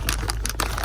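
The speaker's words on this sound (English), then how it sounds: "this plastic bag noise is annoying" Short bursts of crinkling plastic, close and rustly, in quick irregular pulses for under a second.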